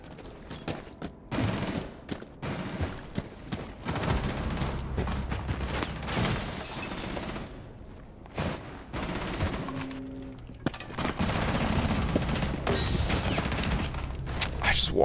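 Rapid sprays of automatic gunfire crackle in a ranked shooter video game, dense bursts repeating over the stretch amid game effects, with a player talking over the action.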